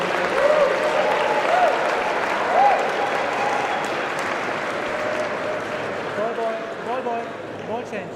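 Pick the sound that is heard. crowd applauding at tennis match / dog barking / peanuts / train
crowd applauding at tennis match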